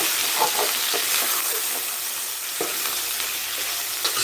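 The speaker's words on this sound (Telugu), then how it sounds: "అన్నీ కూడా చక్కగా వేగుతున్నాయి" Rice, toor dal and coriander frying together in a pan for khichdi give off a loud, close, steady sizzle, with scraping stir strokes and light clinks scattered through it.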